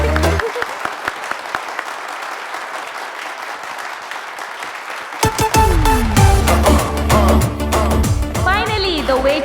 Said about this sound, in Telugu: Everybody clap for Karthik, clap for Karthik.